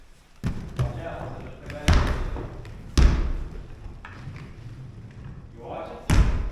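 A basketball is shot at a hoop inside an old barn, and four heavy, hollow thuds ring out a second or more apart, with people talking between the bounces.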